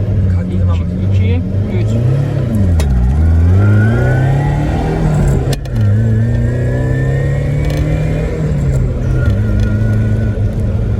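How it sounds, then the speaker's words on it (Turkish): A Tofaş Doğan S car running on LPG accelerates hard from a standstill on an open road, its engine note climbing, dropping at each gear change, and climbing again, loud and close from inside the cabin. "Evet arkadaşlar 0-100'ü deneyeceğiz şimdi."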